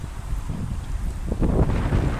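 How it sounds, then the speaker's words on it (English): Wind buffets the microphone at a waterfront beside a bridge and beach, a low rumbling roar that surges stronger partway through. No voices are heard over it. "it's pretty windy out here"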